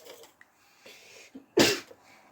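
A single sharp sneeze bursts out close by after a few soft breaths and small rustles in a quiet room, loud and brief against near silence.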